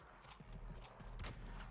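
Horse hooves clip-clop in a quick, uneven series of sharp strikes in the Weird West video game, with a brief whinny mixed in, all fairly faint.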